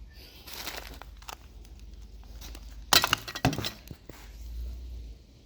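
Old-style glass trade beads from an estate sale lot clink and rattle as hands sort through them, a few bright scattered clicks and a sharper cluster of rattling in the middle, close and fairly quiet.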